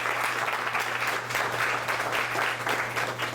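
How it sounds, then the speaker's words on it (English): A crowd applauds steadily, a dense wash of clapping that carries on evenly throughout, with a faint low hum underneath. "Let's give him a round of applause."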